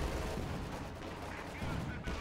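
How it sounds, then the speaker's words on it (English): Walking Stuka rocket artillery firing in the World War II strategy game Company of Heroes 2, a dense, steady roar of blasts and rumbling explosions that fills the whole moment with no break. "Walking Stuka, firing again."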